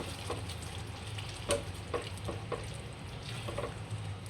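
Boiled eggs get stirred into a simmering egg curry, with a soft sizzle underneath and a few separate scraping spoon strokes against the pan, quiet and close, no voices.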